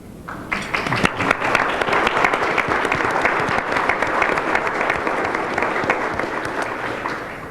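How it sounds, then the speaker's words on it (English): Dense, sustained audience applause for a committee standing before a club gathering, starting abruptly and holding at a steady, fairly loud level for several seconds before easing off slightly. "we will give you a round of applause"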